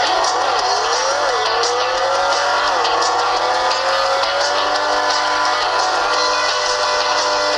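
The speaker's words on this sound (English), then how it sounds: "Now quickly test out beach buggy racing." Beach Buggy Racing, a kart racing game, playing on a Zeblaze Thor 6 smartwatch: a steady buzzing engine drone with a rising and falling pitch, constant and fairly loud with no voices.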